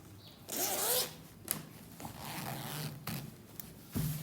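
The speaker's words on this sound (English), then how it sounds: "I'm going to open the zip." A dress zipper is drawn open along its lining, giving a close, rasping zip that runs in a couple of strokes with brief pauses and soft fabric handling between them.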